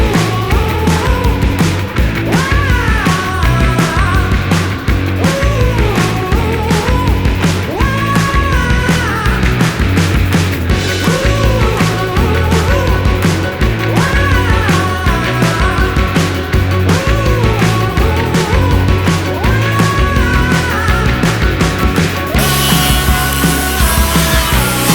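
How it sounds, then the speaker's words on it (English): A cordless Milwaukee angle grinder grinds out welds on a vehicle frame, producing a loud, continuous, harsh abrasive whine that holds steady throughout with no voices over it. "So we're going to grind out a lot of these welds"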